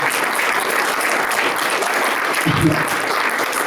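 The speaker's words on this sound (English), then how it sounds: "Let's give a big round of applause" A stand-up comedy crowd in Marana, Arizona applauds the comedians, a thick, sustained roar of clapping that holds steady throughout, with a brief low bump of voice partway through.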